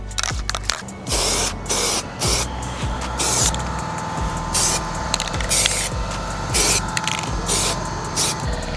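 An aerosol spray can hisses in repeated short bursts, close and loud, as paint is sprayed onto black plastic trim on a BMW E30 with a rhythmic on-off pattern between passes.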